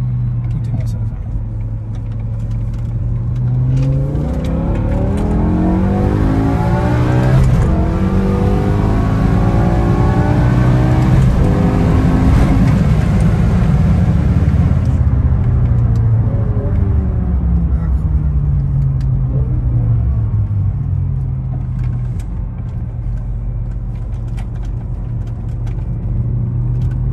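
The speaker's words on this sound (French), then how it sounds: "je vous fais une dernière petite accélération en quittant le rond-point pour vous faire un petit plaisir" A BMW M5 E60 accelerating hard away from a roundabout, its exhaust swelling into a loud, rising roar that peaks and then settles back into a steady, fading rumble.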